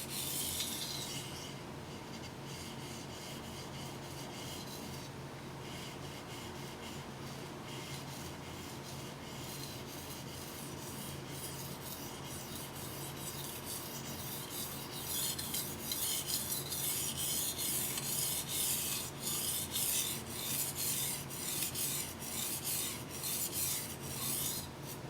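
A Mizuno knife is stroked across a whetstone in a steady, continuous grinding rasp. The strokes are close and even, and they grow slightly louder and brighter in the last third, with no one talking.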